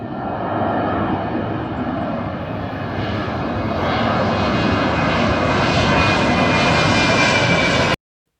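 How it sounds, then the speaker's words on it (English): A propeller airplane's engine roars steadily and loudly as it takes off in Madeira, building slightly in intensity before cutting off abruptly. "There's an airplane that's about to take off."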